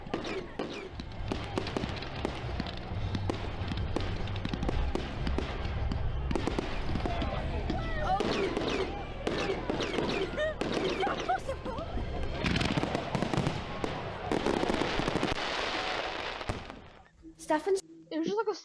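A Jubilee Fireworks display at a school sends out a dense, continuous barrage of booms and crackling bangs, loud and rapid throughout, with voices faintly audible underneath before it fades near the end.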